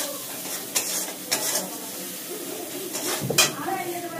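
Dal tipped into a hot pan and sautéed, a steady sizzle broken by several scraping stirs of a utensil against the pan.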